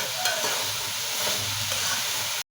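Greens (bottha shak) frying in a pan on a gas cylinder stove, a steady close sizzle with occasional stirring scrapes, continuous until it cuts off abruptly.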